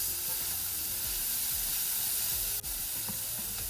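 Peppers and onions sizzling in a pan for chili as they are stirred, a loud, dense, continuous hiss close up with a few faint scrapes of the utensil.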